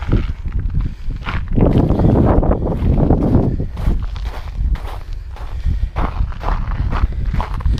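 Footsteps crunch across an icy step outdoors on a cold winter morning, a steady series of close, scuffing treads over light wind noise.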